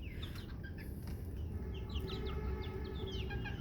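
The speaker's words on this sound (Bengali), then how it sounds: "আপনারা দেখতে পাচ্ছেন আমার মুরগিগুলোকে খাবার দিয়েছি" Chickens clucking softly while eating cabbage mixed with salt and turmeric at night, several short repeated clucks and chirps over a steady low background rumble, no talking.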